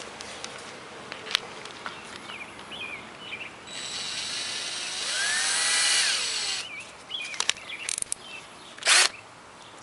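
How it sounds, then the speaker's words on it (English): A cordless drill whirs at a steady high pitch for a few seconds, surrounded by clicks and handling knocks in a quiet room. "put it in my cordless drill"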